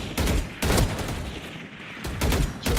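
Gunfire in the video game Valorant comes in dense, sharp bursts of rapid automatic shots, loud and close, with a brief lull between volleys and no talking.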